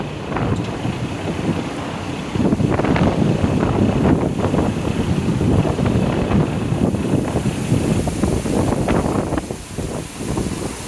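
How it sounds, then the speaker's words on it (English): Wind buffets the microphone during a narrowboat cruise near Llangollen and Chirk, a loud, rough rumble that swells and gusts without pause over a low engine drone. "That wind's getting right, isn't it?"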